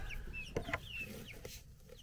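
Baby chickens give a run of short, high chirping clucks close by, several quick calls with a few soft bumps in between and no voices.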